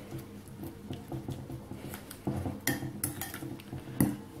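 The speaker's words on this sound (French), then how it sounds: "je vais écraser ça grossièrement" Red fruits are coarsely crushed with sugar in a bowl, a close series of soft squishy presses and utensil clinks against the bowl, growing louder toward the end.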